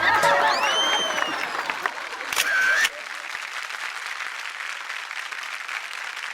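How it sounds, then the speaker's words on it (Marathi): An audience claps loudly on a Marathi TV show stage as a guest receives a gift, the dense clapping running for about three seconds before cutting to quieter background noise. "जोरदार टाळ्या होऊन जाऊ दे"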